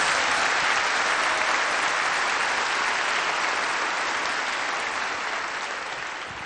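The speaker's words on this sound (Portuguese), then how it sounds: "Dê para Jesus uma bem forte salva de palmas." A large church congregation claps loudly and continuously, a thick wash of applause that holds steady before tapering off slightly near the end.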